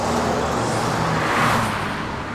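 Cars drive along a road in an anime, a steady, fairly loud engine and road rumble that swells slightly midway as vehicles pass, with no talking.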